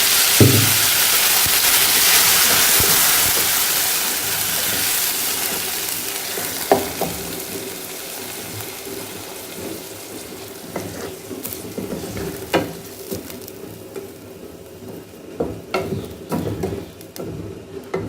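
Tomatoes frying in browned onion masala for chana masala, a strong sizzle that fades slightly as a spatula scrapes and stirs with intermittent clicks.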